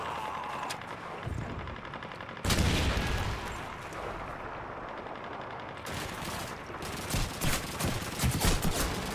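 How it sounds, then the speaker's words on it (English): Heavy automatic gunfire in Call of Duty 2 during a wartime battle, machine-gun bursts and rifle shots rattling continuously and loud, swelling in intensity partway through. "Someone shooting at me."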